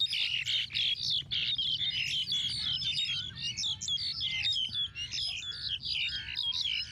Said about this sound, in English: there are 4 birds fighting near our effects microphone